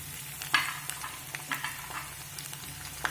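Chopped garlic and ginger fry in hot oil, a steady sizzle broken by scattered crackles and pops and a few sharp spatters.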